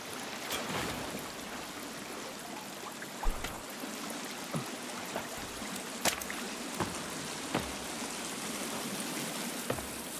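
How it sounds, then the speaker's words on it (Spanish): A loud, continuous rush of a flowing stream in the survival game The Forest fills the scene, with a few sharp splashes and clicks scattered through the steady water noise. "Qué escándalo de agua, tío"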